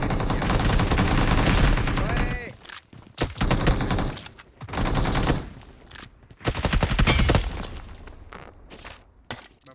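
Rapid automatic gunfire bursts from the BGMI mobile battle royale game, loud and dense in long rattling volleys broken by short pauses and single cracks, with players talking over the shooting.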